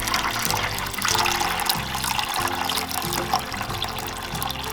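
Hot water being poured into a pan on a barbecue grill, a continuous splashing, trickling pour at moderate level that runs steadily for several seconds without talk.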